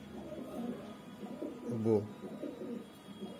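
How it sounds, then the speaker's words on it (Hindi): A female pigeon coos softly nearby, a short throaty call amid low murmuring and a brief spoken word. "आज मार्केट से नेपालगंज मार्केट से दो कबूतर लाया, दो मादी"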